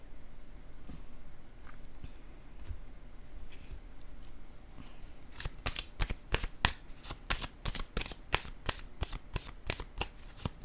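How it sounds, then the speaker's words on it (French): Tarot cards are handled quietly, then come a rapid run of crisp, close flicks and slaps as cards are shuffled and laid down one after another, with no talking. "Là, je vais déposer une autre carte."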